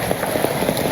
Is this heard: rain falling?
yes